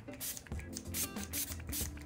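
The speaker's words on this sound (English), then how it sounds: "I'm going to give my face a little spritz of the Farsali Rose Gold Skin Mist. This is a dewy spray." Farsali Rose Gold Skin Mist, a dewy face spray, is spritzed in several short, soft hissing puffs a fraction of a second apart, quiet and close.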